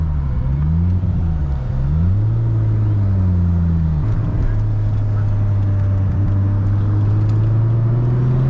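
A cammed Nissan R32 GTS-T engine idling, a loud, steady, lumpy rumble close by with the pitch wavering early and then settling, heard alone without talk.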